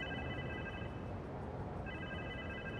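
Repeating electronic phone ring from a call in Marvel's Spider-Man 2 on PS5, a steady trilling tone that plays, pauses, then resumes over a dense bed of game ambience.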